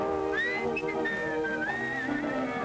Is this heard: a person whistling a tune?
yes